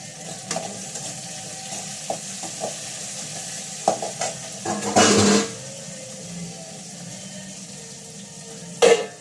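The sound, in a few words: curry leaves and tomato sizzling in hot oil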